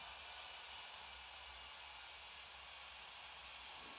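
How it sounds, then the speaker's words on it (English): A Boeing 737 MAX 8 in Ethiopian Airlines markings takes off in the Infinite Flight simulator game, its jet engines giving a steady, unbroken roar that holds for the whole stretch with no voices. "let's see this takeoff"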